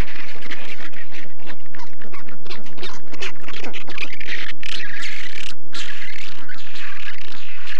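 A nesting penguin colony on a clifftop, loud and dense with overlapping calls and squawks, a continuous raucous chorus with no pauses.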